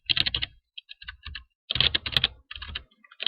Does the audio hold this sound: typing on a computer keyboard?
yes